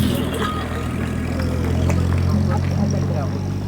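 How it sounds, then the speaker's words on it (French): Engine of an American classic car idling at a concours d'élégance, a steady low rumble with harmonic bands held throughout, with speech over it. "On entend bien le moteur américain."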